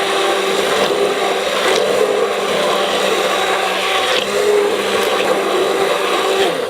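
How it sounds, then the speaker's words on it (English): A blender whirs steadily as it purées potato and leek soup with heavy cream, a loud, continuous motor drone that holds evenly for several seconds with no talking. "We're going to add 3/4 cup of heavy cream and then give it one more blend."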